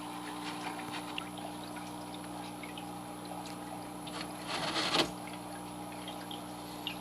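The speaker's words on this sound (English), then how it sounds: "So now it is going to start to siphon." An aquarium gravel siphon pulling water and waste up from the gravel: a faint continuous trickle with a steady hum from the tank, and a brief gurgling surge near the end.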